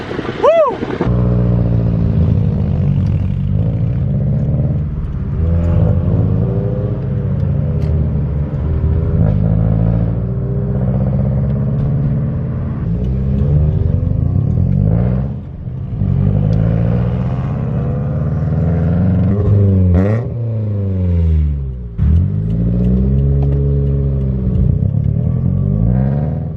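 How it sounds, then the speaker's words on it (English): BMW engine with the muffler cut off, rumbling and revving loudly and close by in repeated rising and falling pulls, raw and unmuffled, with voices talking over it. "Mark's BMW sounds pretty sick the way it is with the muffler cutoff"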